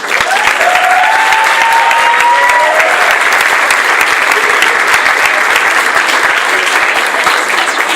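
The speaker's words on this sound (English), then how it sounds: "Let's give a round of applause to the graduates of Hoover High School." Sustained applause from a large crowd at a Hoover High School graduation ceremony, with dense, steady clapping that stays loud and even throughout, and no one speaking over it.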